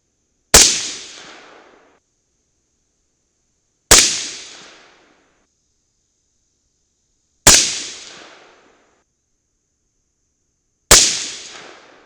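Four loud, sharp rifle shots ring out at slow, even intervals, each fading quickly into silence. The rifle fires Mk 262 clone Nosler handloads with CFE223 powder.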